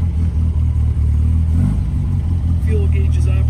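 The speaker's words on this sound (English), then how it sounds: "Take a quick listen to the engine." A 1959 MGA's engine idles steadily at close range, a low even rumble with faint chirps and other sounds intruding near the end.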